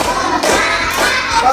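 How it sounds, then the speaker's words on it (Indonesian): A class of children clapping their hands in unison, three loud, sharp group claps spaced evenly, close and without talk. "Tepuk 3."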